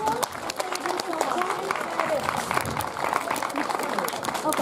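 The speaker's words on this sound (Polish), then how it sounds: "Oklaski do nich." An audience at a family school fair in Tuszewo claps for young primary and preschool pupils, a steady mid-level patter of many hands with crowd chatter and talk running underneath.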